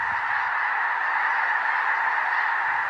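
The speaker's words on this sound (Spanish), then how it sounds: "En la actualidad, los gansos blancos se abalanzan como tormentas de nieve sobre estos enormes campos" A huge flock of white geese over vast industrial farm fields on the Mississippi plains makes a dense, continuous chorus of honking that stays steady and loud throughout, with no voices.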